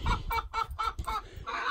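Chickens cluck close by in a rapid run of about six or seven short bursts, loud and clear, with no talking.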